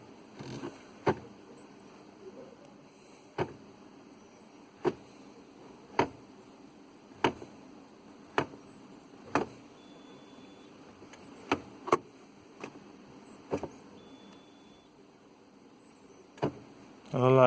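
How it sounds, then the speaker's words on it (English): The gear selector of a Honda Jazz with a CVT automatic transmission clicks through each position in turn, producing a slow series of sharp, evenly spaced clunks and ticks against a quiet cabin hum. "you put it in first ignition, turn that radio off, sorry about that, and you just literally go through all the gears"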